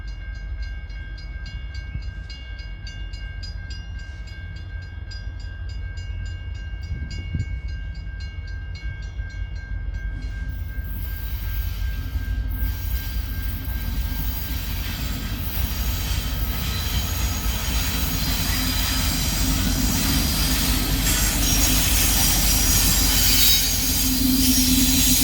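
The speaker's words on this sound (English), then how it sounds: "UP 5151, an uncommon notch nose SD70M, would lead this train east through the junction at Vine Street." An eastbound freight train led by a Union Pacific notch-nose SD70M locomotive rolls through a junction at Vine Street, with sustained loud wheel squeal and continuous rumbling of rail cars passing close by.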